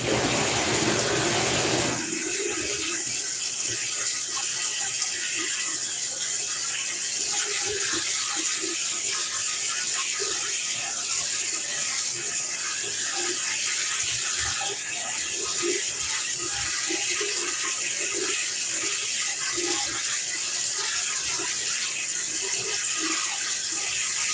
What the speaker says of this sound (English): let me add some more hot water. to my bath.